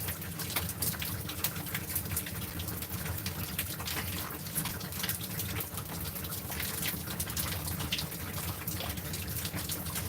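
Rain falling steadily in a sodden mountain forest, a dense, continuous hiss of drops with a constant patter and no pauses, close and fairly loud throughout.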